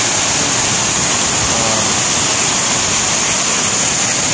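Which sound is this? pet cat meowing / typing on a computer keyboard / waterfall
waterfall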